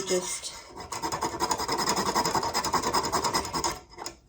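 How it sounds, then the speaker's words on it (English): Whole nutmeg is rubbed against a grater for about four seconds, giving a rapid, even series of close rasping strokes for a spiced carrot cake cupcake batter, with no voices. "about a 1/4 teaspoon of freshly grated nutmeg"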